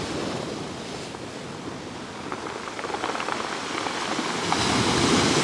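Waves roll pebbles back and forth on a Crimean shore at Alushta after a storm, a loud continuous surf wash with gritty stone rattles and wind buffeting the microphone, swelling toward the end.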